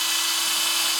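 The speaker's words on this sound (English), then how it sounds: "get your little drill bit and just drill a hole right at the edge of the seal" A small drill bit boring a hole into the edge of an outboard motor's upper crankshaft seal, where it meets the steel cylinder block: a steady, close, high-pitched whine with no break, no talk.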